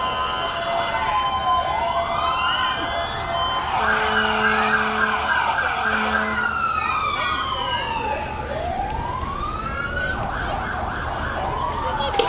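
Fire truck sirens at a town farm and city days parade, several rising and falling wails sweeping and overlapping, fairly close and loud, with steady blasts of an air horn partway through over crowd noise.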